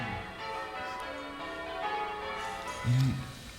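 Church bells ring close to an outdoor film location, with long sustained tones hanging in the air and a stronger low clang near the end, no voices over them.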